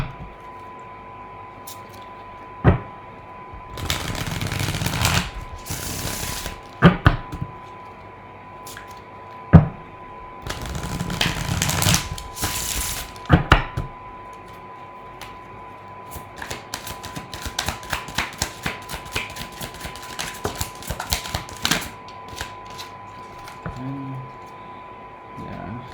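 A tarot card deck is shuffled in several bursts of riffling, flapping card noise, loud and close, with quieter pauses between; someone speaks at times.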